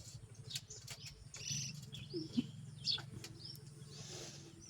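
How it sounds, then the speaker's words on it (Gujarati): Sparrows chirp in a rural village, giving a few scattered, faint, quick tweets over a low steady background hum rather than a dense chorus. "ચકલીઓ ચી ચી ચી ચી કરે"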